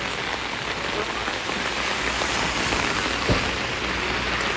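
Steady rain falls on a surface outdoors, a dense continuous hiss with a single sharper drip or tap near the end, no voices.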